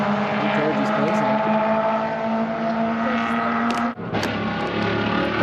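Race cars, a Mazda Miata among them, howl past on a racing school track day, with a loud sustained engine drone and shifting pitch, then a sudden brief dip as one car passes close before the roar resumes.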